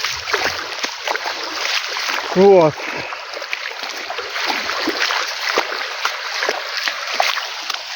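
Rainwater from a heavy downpour with hail runs steadily into a flooded yard, a continuous close rush and trickle of flowing water with a brief louder splash partway through, and someone speaks a word over it.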